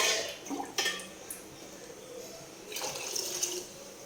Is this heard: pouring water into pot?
yes